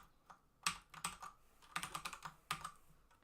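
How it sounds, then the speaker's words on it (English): Burst of keyboard typing on a computer while writing Angular code, close and crisp with irregular clusters of keystrokes, a brief opening tap then denser runs of clicks, no talking. "So I can now type in body."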